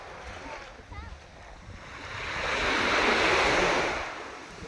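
Gentle sea waves wash onto a beach on a calm, sunny evening, a steady surf wash that swells and fades under wind noise.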